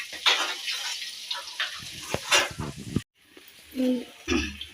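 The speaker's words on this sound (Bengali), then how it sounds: "মাছগুলো ভাজা চলছে" Fish frying in hot oil in a home kitchen, a steady sizzling hiss that runs most of the stretch, briefly cutting out and returning with some clatter of stirring.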